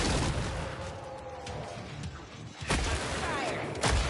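Automatic turrets firing in the video game Killing Floor 3: dense, continuous rapid gunfire with sharp louder bursts near the end, mixed with game effects.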